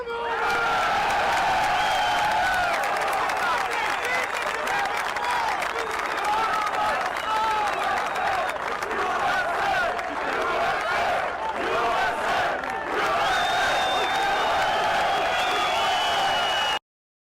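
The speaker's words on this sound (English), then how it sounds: "Applause can be seen as an indicator of audience approval of comments" A large audience applauds and cheers after a patriotic political speech, sustained loud clapping mixed with crowd noise and whoops that continues unbroken for many seconds.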